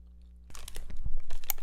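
Orange vinegar-flavored jelly from a CU convenience store is chewed close to the mic, producing a run of moist crunches and squelchy bites that start after a short quiet pause and continue steadily.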